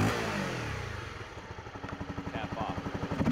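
A Honda CBR 250R engine with its air intake cap fitted revs up from idle, its exhaust pulsing in a quick, even beat that grows louder and faster toward the end, heard up close.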